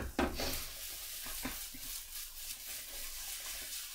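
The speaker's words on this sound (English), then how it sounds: "That little sizzle will start cooking it instantly underneath" A banana pancake sizzles quietly in a frying pan on a stove. A steady soft hiss runs throughout, with a few light clinks and scrapes from the pan near the start.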